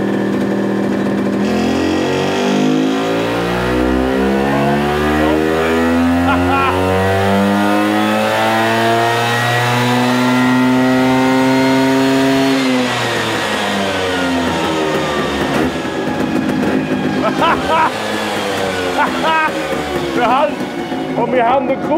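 Tuned Vespa PX 125 Lusso engine held at full throttle on a dynamometer, a loud buzzing two-stroke wail climbing steadily in pitch, then dropping off and revving again with crackles near the end.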